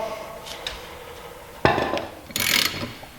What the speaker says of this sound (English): We've got a big old breaker bar. Loosen it off.